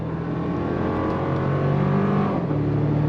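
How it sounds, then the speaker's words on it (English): A 2024 Toyota Tacoma Limited with the i-FORCE MAX powertrain accelerates under throttle as its 8-speed transmission downshifts, giving a steady, loud engine drone from inside the cab with a brief shift in pitch near the end. "On throttle, here we go. 8-speed drops down, we're off and running."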